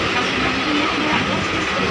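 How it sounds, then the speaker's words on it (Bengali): A local train rolls slowly across a bridge, giving a steady, dense rumble and rattle of wheels and carriages heard close from on board, continuous throughout with no speech. "লোকাল ট্রেন বলে একদম আস্তে আস্তে যাচ্ছে"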